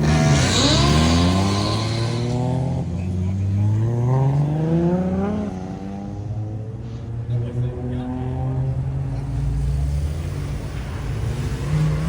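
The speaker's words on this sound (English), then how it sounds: "see if we can get any good pulls from the cars leaving the meet" Cars leaving a Miami car meet rev and accelerate past in a rising, roaring sweep, one after another, with a continuous loud rumble throughout.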